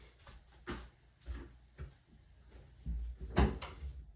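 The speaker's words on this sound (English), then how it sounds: "I'm gonna shut the door just in case you" A door is shut indoors, heard as a series of soft thuds and knocks with a firmer bump near the end. The sounds are fairly quiet and close.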